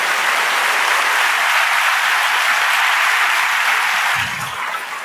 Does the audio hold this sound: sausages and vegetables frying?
no